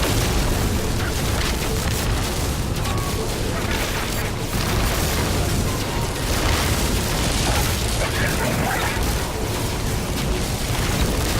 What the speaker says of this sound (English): there's a space battle with some guys attacking a freighter